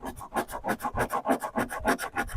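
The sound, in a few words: cheese grater file shaping car body filler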